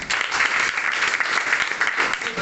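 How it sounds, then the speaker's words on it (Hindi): A seminar audience on network marketing breaks into brief, dense applause for a participant, a close, steady roar of many hands filling the whole moment without talk. "इनके लिए ताली होना चाहिए"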